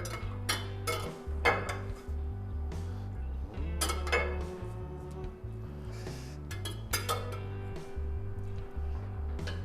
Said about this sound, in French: je vais le mettre dans le contenant avec une cuillère